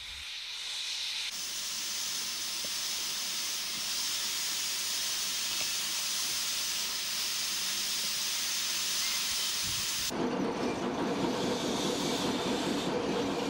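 Steam locomotive number 413 on the Vivarais railway in 1995, heard as a steady hissing roar of steam with a low rumbling undertone, continuous and fairly close, shifting to a rougher, more rhythmic chuffing texture toward the end.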